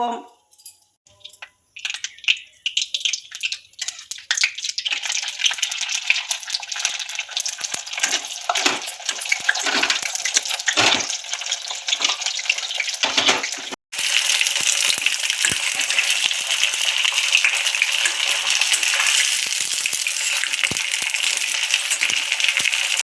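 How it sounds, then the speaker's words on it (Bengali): Sabudana papad dropped into hot oil in a wok, a loud steady bubbling sizzle that builds over the first seconds, then continues as a dense, even frying hiss close up. "তেলটা আমার গরম হয়ে গেছে। এখন আমি পাঁপড়টা দিয়ে দেব।"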